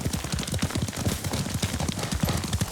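Horse hooves clip-clopping at a steady riding pace in the video game Ghost of Tsushima, close and continuous with a quick regular rhythm.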